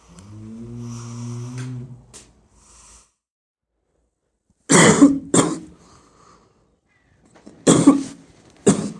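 Someone snores while camping overnight in a forest, with loud rasping snorts in separated bursts after a quieter stretch.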